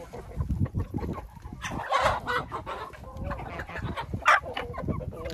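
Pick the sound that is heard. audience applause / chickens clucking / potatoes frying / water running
chickens clucking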